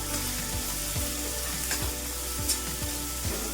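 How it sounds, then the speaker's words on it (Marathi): Chopped onion frying in hot oil with garlic for a spinach and potato dish, a steady close sizzle punctuated by regular soft scraping stirs of a spatula in the pan. "कांदा आपल्याला मस्त असा लाल रंगावरती असा भाजून घ्यायचा आहे, म्हणजे तळून घ्यायचा।"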